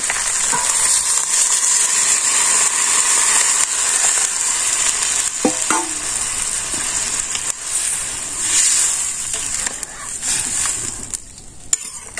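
Village chicken curry frying in a pan with a steady loud sizzle and hiss, the rhythmic scrape of stirring running through it and a few clinks, close with no talk.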